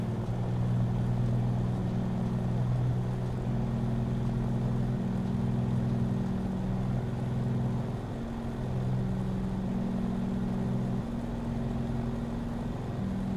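A light aircraft engine held at full throttle in Microsoft Flight Simulator before takeoff: a steady, loud droning hum with low tonal layers that waver slightly, continuous throughout with no voices.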